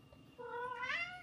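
A cat gives a single drawn-out meow that rises in pitch, fairly faint against a quiet background.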